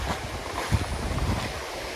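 Strong wind buffets and roars across the microphone in steady, gusty rushes, with a faint low rumble underneath.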